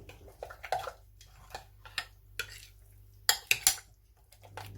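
Lamb kofta mixture with a sprinkling of paprika mixed in a bowl: soft squelches and several sharp clinks of a utensil against the bowl, close and fairly quiet, in short irregular bursts with no talking.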